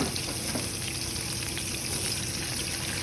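Garlic frying in a small amount of melted butter, giving a dense, steady crackling sizzle that stays close and loud throughout with no pauses.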